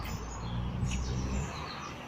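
Birds sing in a park in Waterloo, Liverpool, a steady wash of chirps and calls over soft outdoor ambience, with no talking.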